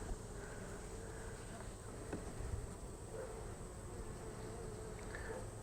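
Honey bees hum in a faint, continuous swarm around an open beehive during a weak-hive inspection in fall, the steady buzz drifting without breaks.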